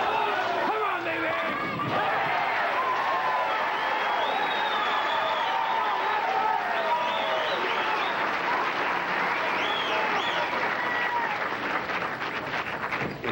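A bowling crowd at a 1997 PBA tournament applauds and cheers a strike in the tenth frame, a dense, steady roar of clapping that holds for the whole stretch, with a commentator talking over it.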